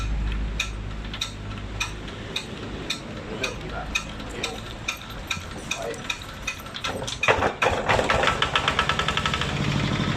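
A Magnum RT 155 engine runs with a rapid, even chugging beat that rises into a louder, faster run near the end, close by with some background noise and no clear talk.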